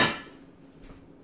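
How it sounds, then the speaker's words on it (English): A metal lid set back down onto a hot pan of dough, one clear clink right at the start that fades into quiet room tone. "Then you're going to put the lid back on"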